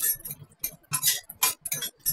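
A spoon clinks and scrapes against a kadai as dry chili, cumin, grated ginger and hing are stirred, giving a run of quick, bright metallic taps and scrapes in irregular bursts, close and fairly loud.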